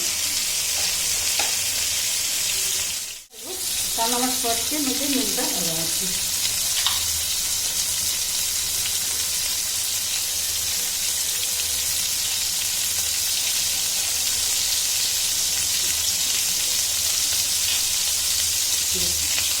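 Onion and green chilli frying in a pan for veg Manchurian give a loud, steady sizzle with stirring throughout, with a brief voice near the start.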